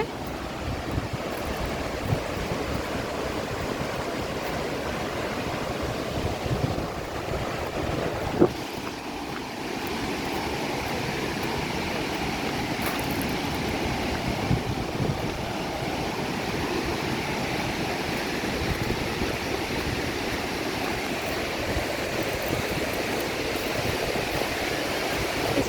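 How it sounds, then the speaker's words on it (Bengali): A waterfall pours and flows in a continuous broadband rush, steady and enveloping, with wind buffeting the microphone and a brief knock partway through. "কি সুন্দর ঝর্ণার জল পড়ছে"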